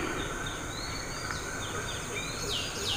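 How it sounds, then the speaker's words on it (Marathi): Birds chirping in the morning, small tweets and calls scattered over a steady hiss of insects, fairly faint and distant, with no one talking. "काय मंडळी, पक्ष्यांचा आवाज येतोय का?"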